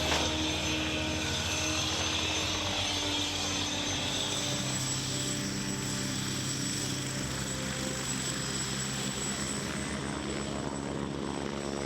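A firefighting helicopter flying out to a forest fire, its loud continuous rotor and turbine roar filling the cabin steadily throughout without pause.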